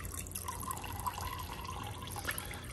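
Water running through a siphon hose into a bucket makes a quiet, continuous trickle with a faint gurgle, heard close up and alone.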